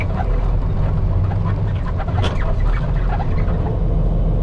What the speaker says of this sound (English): I know my hood is pretty squeaky.